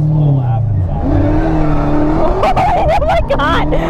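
A car revs and drifts through a slow lap, its engine note rising and falling over a steady drone with tire scrubbing toward the end, while people talk over it.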